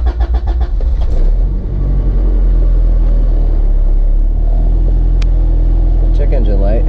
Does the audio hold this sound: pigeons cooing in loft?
no